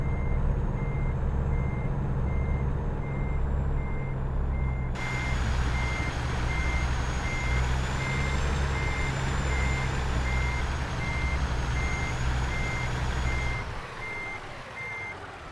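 A truck in American Truck Simulator reverses with a loud, evenly spaced electronic backup beep repeating over a steady diesel engine drone, until the sound cuts off near the end.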